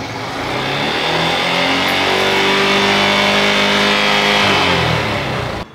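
A Yamaha FZ FI V2 motorcycle with an over-revving fault roars at a steady high idle, holding a loud, continuous engine drone close by before cutting off abruptly at the end.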